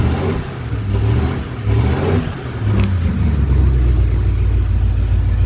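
A 1967 Chevrolet C10 pickup engine runs steadily after a camshaft change, a loud continuous low rumble with slight surges in revs, heard alone without talk.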